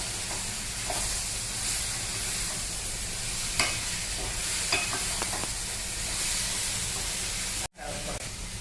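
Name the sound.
stirring capsicum, peas and potato mix in frying pan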